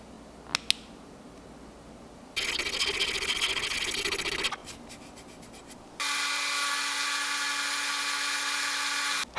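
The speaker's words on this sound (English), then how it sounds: "Had to really start that hole with a Dremel bit" A Dremel bit drills into a plastic crankbait fishing lure in two bursts of high, whining grinding, separated by a pause with small clicks of handling.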